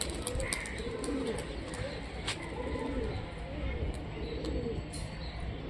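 Low, throaty cooing from several Rajshahi Giribaz pigeons rolls along steadily, with a few faint higher chirps over a constant hum.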